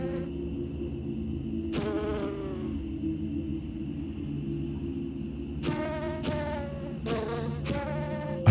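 Bees buzz steadily in the video game I Commissioned Some Bees, a close, continuous droning hum with several louder swells as insects pass near, no talking.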